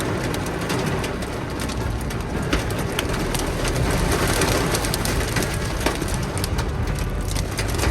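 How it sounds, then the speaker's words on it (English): Heavy rain and hail pound on a car during a storm near Brunswick, Georgia, a dense, loud, continuous hiss with sharp scattered ticks of hailstones striking, steady throughout and with no voices. "now it's raining so hard I can't see, and there's hail"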